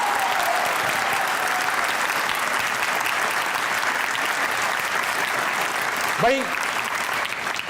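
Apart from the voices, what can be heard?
studio audience applause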